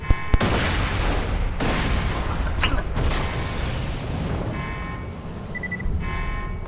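A grenade goes off in the shooter game Borderlands The Pre-Sequel, a sharp loud blast near the start followed by dense, rumbling explosive noise and debris-like crackle that carries on with another burst midway, with no voices.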